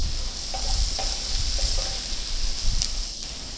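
Something sautéing and being stirred in a pan with turmeric for parupu urundai moor kuzhambu, a steady soft sizzle broken by a few light stirring scrapes, close and with no talking.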